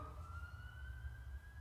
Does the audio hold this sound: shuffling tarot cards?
no